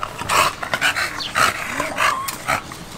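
A bully-breed dog resting in a shaded yard area makes a run of short, close vocal sounds and breathy huffs that come in uneven bursts across a few seconds, with no talk over them.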